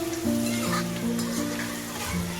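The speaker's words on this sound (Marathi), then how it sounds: "ह्याच्यात टाकूया थोडं बटर, छान कांदा भाजून घेऊया" Onion frying in butter in a pan gives a soft, steady sizzle under a constant low tonal hum, moderately close and even throughout.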